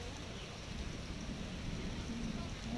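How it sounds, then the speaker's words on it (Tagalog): Heavy rain pouring steadily in Taiwan, a dense, close, unbroken hiss and patter with a low rumble underneath. "Lakas po ng ulan."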